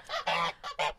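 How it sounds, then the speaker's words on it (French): A male goose (gander) honking: four loud, harsh nasal calls in quick succession, close and alone with no other sounds. "Ceci est un jar. C'est le mâle de l'oie."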